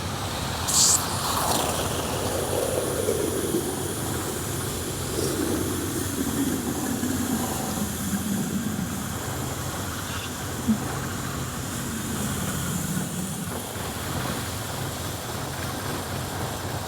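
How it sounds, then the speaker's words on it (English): A car engine fed with beer idles roughly, its pitch wandering and surging unevenly over a sustained, fairly loud run with no voices. "The engine's jumping around a lot."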